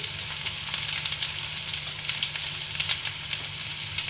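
Ground cumin fries in hot oil with a bright, steady sizzle and fine crackling pops close up, with no talking.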